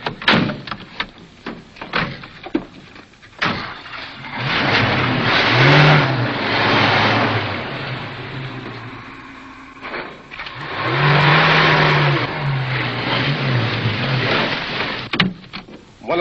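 A truck engine in a 1941 radio drama starts up and revs, with door clunks and slams around it, then the engine swells twice in long loud surges as the vehicle pulls away.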